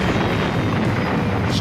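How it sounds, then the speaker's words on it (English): A missile explosion in the video game Cho Dengeki Stryker roars as a loud, sustained blast, dense and rumbling throughout with no pause. "Jack cried out at the moment the missile exploded in my arms."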